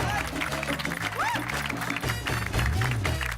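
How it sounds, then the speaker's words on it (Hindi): Audience clapping at the Gokuldham society gathering for Amitabh Bachchan, steady applause running under voices and background music. "बहुत बहुत ताली बजा इनके लिए जी"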